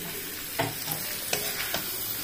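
Food stirred and fried in a pan during home cooking, a steady soft sizzle with a few scraping stirs of a spoon, close but quiet.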